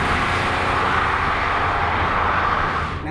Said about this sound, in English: That 3-litre engine, it's really spinny as well.